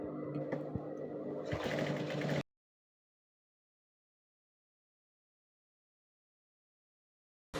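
A sewing machine stitches the side seams of a no-dart blouse with a 1.5-inch seam allowance, running in a close, steady whir for about two seconds before stopping into silence.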